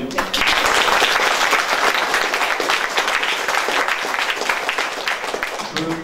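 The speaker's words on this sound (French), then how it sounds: "Vous pouvez aussi applaudir" A hall audience at a French association's annual general meeting with theatre sketches breaks into sustained, dense applause, loud and steady from start to finish with no break.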